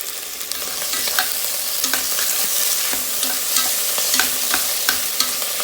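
Vegetables and butter sizzling in a pot, a steady hissing fry with repeated scraping and clinking strokes of a stirring utensil throughout, close and fairly loud, with no voices.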